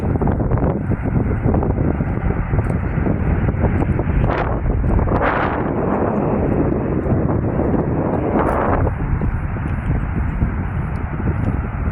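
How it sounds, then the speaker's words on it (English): Strong wind buffets the microphone in a constant low roar, with a few louder gusts rising and falling. "It's kind of a windy day today."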